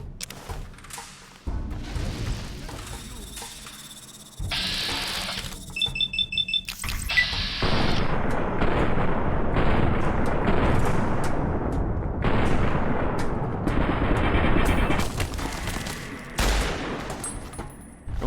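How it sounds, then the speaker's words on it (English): Rapid gunfire from several weapons in Fallout: New Vegas, dense bursts of close shots and fusillade-like crackle over a steady din, with some alarm-like tones mixed in. "Somebody else shooting is there."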